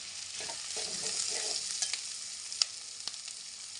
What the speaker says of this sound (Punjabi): ਹੁਣ ਆਪਾਂ ਇਹਨੂੰ ਪਿਆਜ਼ਾਂ ਦੇ ਵਿੱਚ ਮਿਕਸ ਕਰ ਦਿੰਦੇ ਹਾਂ